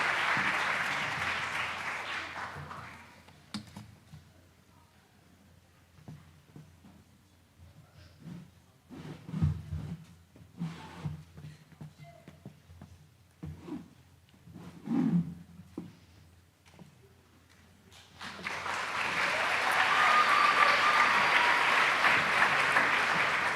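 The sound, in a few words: applause for award honorees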